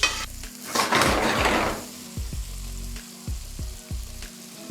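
Just-cooked pasta is tossed in a hot pan, with a burst of loud sizzling followed by rhythmic clattering of pan and utensil, close up and without speech.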